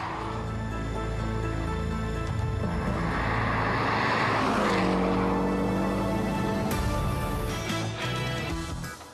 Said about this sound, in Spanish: Ni siquiera un cambio de carril a 110 kilómetros por hora y sin frenar le causa problemas